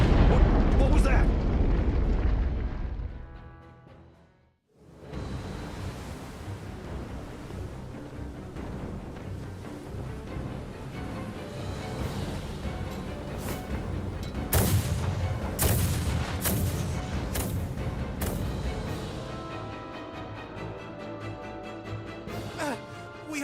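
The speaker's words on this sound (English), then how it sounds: "Their unceasing bombardment is laying waste to our forces." Naval bombardment in a video game, with loud booming explosions and artillery fire rolling continuously, a sudden silence near five seconds, then heavy sustained blasts and sharp impacts under a dense roar.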